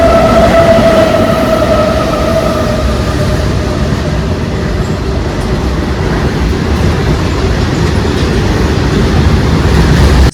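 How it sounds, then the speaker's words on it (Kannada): A train pulls into Tumakuru railway station with a loud, continuous rumble of wheels on rail and a faint squeal. The sound stays steady throughout as the train comes to a stop. "ಟ್ರೈನ್ ಬಂದು ನಿಂತಿದೆ"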